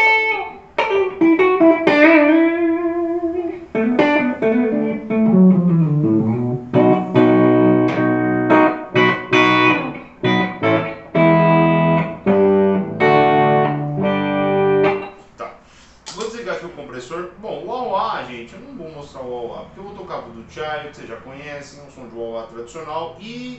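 Electric guitar played through a 2021 pedalboard with reverb, ringing chords and melodic lines with a long wash of sustain, loud and steady, then a softer, sparser passage near the end.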